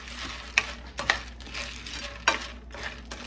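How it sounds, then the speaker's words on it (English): Cheerios cereal being stirred through melted butter in a pan for a hot buttered snack, giving a few scattered scraping clicks and soft rattles over a low, quiet sizzle, close up with no voices. "Now I'm going to add my Cheerios. Stir to coat."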